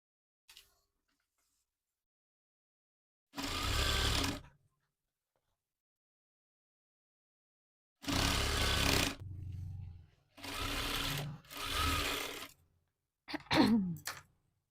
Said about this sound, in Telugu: ఈ విధంగా పట్టీని స్టిచ్ వేసుకోవాలి